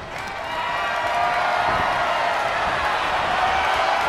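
A roaring arena crowd in the WWE 2K23 wrestling video game swells into sustained cheering and noise during a Royal Rumble match, loud and continuous throughout.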